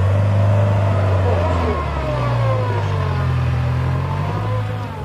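A car stuck in Sahara desert sand in Senegal revs its engine hard and close, a loud, strained droning roar whose pitch wavers and slowly shifts as the wheels fight for grip.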